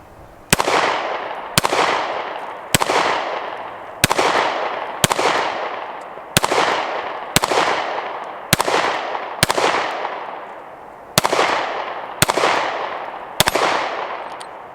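A Taurus G3c subcompact pistol fires about twelve loud, sharp shots at a steady pace of roughly one per second, each crack trailing off in a short echo.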